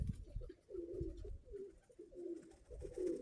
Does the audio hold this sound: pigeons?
yes